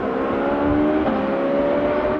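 The one-off Porsche 963 RSP, a street-legal road version of the Le Mans prototype with a hybrid V8, running with a steady close engine drone and a whirring tone that holds throughout and carries no talking.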